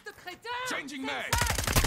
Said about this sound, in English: See, when he's shooting me now, it's ricocheting onto him.